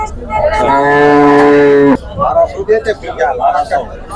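A native Javari cow gives one long, loud moo lasting about two seconds at the Sindhanur cow market, followed by a busy murmur of voices and background clatter.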